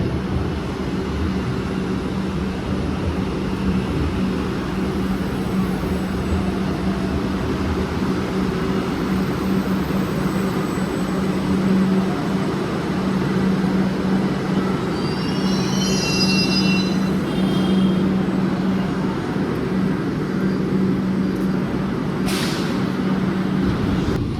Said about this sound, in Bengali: এই যে প্ল্যাটফর্ম ভেতরে ঢুকছে মেট্রো